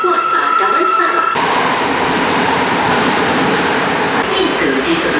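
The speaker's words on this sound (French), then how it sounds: "The train approaching platform 2 to Kuasa Damansara." A Kuala Lumpur metro train arrives at a station platform with a sudden onset of loud, continuous rumbling and rolling wheel noise that fills the space. A voice can be heard faintly beneath the din.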